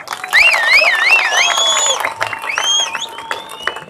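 A large crowd at an outdoor public rally cheers and whoops, loud and close, with shrill whistles rising and falling above a dense roar of voices and scattered clapping.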